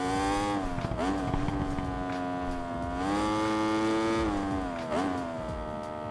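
Yamaha R1M superbike with a full carbon build in Ride 5, its engine held high and revving hard near the limiter, pitch dipping and climbing again in sustained, loud, continuous howls with no talk.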